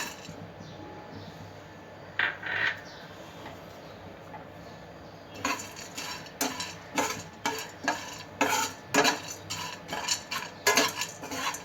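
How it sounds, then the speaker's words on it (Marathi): Dry fruits lightly roasting in a pan are stirred with a metal spoon, giving faint sizzle under a run of repeated scraping clinks that grow regular and busier in the second half. "ड्रायफ्रूट्स आपण हलके गरम करून घेऊया."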